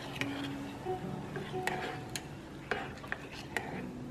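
A spoon stirs a thick guava and sugar mixture in a pot on the stove, soft scraping with occasional light clinks against the metal, quiet and close.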